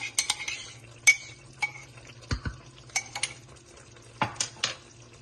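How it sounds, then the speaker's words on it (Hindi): Whisked yogurt going into a pan of black pepper chicken karahi, with sharp clinks of a metal spoon against the pan, scraping and stirring, and a low steady hum underneath; no talking. "अब इसमें जो है मैं दही डालूंगी आधी कप।"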